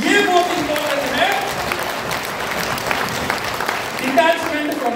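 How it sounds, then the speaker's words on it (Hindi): Audience applause at a motivational seminar in Almaty, Kazakhstan: steady, dense clapping filling the whole stretch at a fairly loud level, swelling slightly near the end, with a voice faintly mixed in. "वंडरफुल माय डियर फ्रेंड्स, आपके लिए हाथ ताली हो जाए।"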